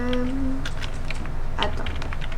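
Typing Java code on a computer keyboard, a brief scatter of light key clicks close by, mixed with talking and a steady background hum.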